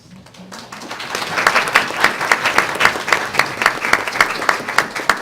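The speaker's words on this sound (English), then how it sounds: "you definitely deserve a hand clap of praise" An audience at a school board meeting claps for students' families, the applause swelling from a few hands into sustained, dense clapping that holds strong to the end.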